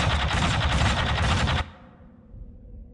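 Heavy automatic gunfire rattles loudly in a battle from Warhammer 40k Dawn of War Dark Crusade, a dense rapid burst that cuts off sharply partway through, leaving a low fading rumble.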